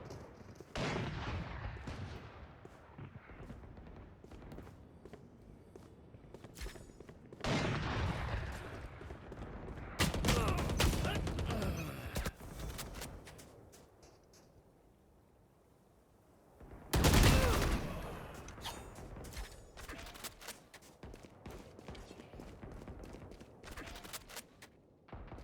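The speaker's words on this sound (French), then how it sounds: "j'ai vu des tirs venir de là" Gunfire in a video game: bursts and single shots crackle in several clusters, with louder volleys near the start, the middle and around seventeen seconds, separated by quieter stretches.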